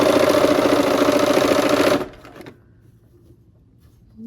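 A sewing machine stitches a Christmas tree quilt block, a fast, loud, close mechanical whir for about two seconds, then it stops and only faint room sound remains.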